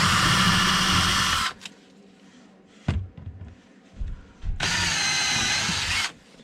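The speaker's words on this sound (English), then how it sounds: "Just drilling a couple of pilot holes through the ACM." A power drill bores pilot holes through aluminum composite panel on a full height teardrop camper build, with two loud, sustained high-pitched bursts at the start and end separated by quieter clunks and handling noises.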